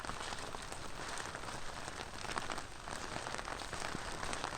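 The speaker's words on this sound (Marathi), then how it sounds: "कालपासून पाऊस पडतो" Heavy monsoon rain falls steadily in the Konkan countryside, a dense, even hiss of downpour with no break and no voices.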